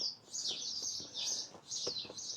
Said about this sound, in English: Hear the birds singing, look.